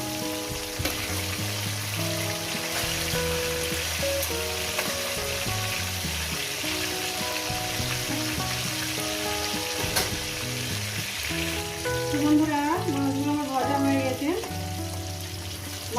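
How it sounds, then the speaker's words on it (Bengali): Pieces of fish frying in a pan give a steady, dense sizzle throughout, mostly masked by continuous melodic background music. "একেবারে মাছগুলো ভেজে নিয়ে দিচ্ছি"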